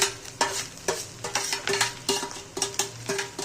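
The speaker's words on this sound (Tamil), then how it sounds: "இது வெங்காயம் போட்டு நல்லா கொஞ்சம் ஃப்ரை ஆகணும்" Onions and coconut fry in a pan for a dried fish fry, a dense close sizzle punctuated by rapid rhythmic scrapes and clacks of a spatula stirring against the pan.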